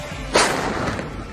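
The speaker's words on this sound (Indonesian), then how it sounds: "Beleguran sendiri merupakan permainan yang menggunakan bambu besar berkarbit untuk mendapatkan suara dentuman mirip meriam" A carbide-fuelled bamboo cannon (beleguran) fires one sudden, sharp boom, followed by a short decaying rumble over low background noise.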